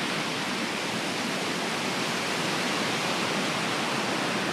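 Ocean waves wash onto a Gold Coast beach in a steady, broad hiss of surf that stays loud and unbroken throughout.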